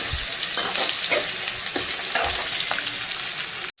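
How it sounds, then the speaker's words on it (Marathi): Onion sautés in a pan until golden for a Satara-style pavta amti, a loud, continuous close sizzle broken by the scrape of stirring, then cut off abruptly at the end. "कांदा असा चांगला परतून घेणं, कलर बदलूपर्यंत, सोनेरी होईपर्यंत."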